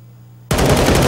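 Automatic gunfire from CS:GO bursts in abruptly after a quiet hum, a dense rapid rattle of shots at close, loud range.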